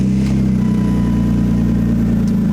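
A car engine running steadily at close range on the way to a drift event, a loud, even rumble with a slight rise in revs, no voices.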